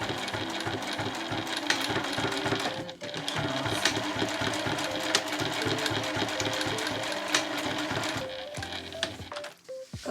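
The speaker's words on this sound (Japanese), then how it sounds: "このままここで縫い付けをしていきます" A sewing machine stitches a shoulder strap onto a bag being remade into a two-way backpack, running in fast, steady bursts with a brief pause before stopping near the end.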